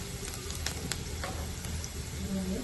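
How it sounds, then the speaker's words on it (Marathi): Chillies sizzling in hot oil for a fenugreek greens stir-fry, a steady close crackling hiss with a few sharper pops through the whole stretch and a faint voice in the background. "मिरची मी बारीक तेलातच टाकते"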